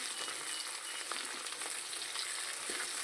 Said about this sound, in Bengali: তো এইভাবে টমেটোটা ভালোভাবে সেদ্ধ না হওয়া পর্যন্ত মশলাটা এইভাবেই কষাতে থাকবে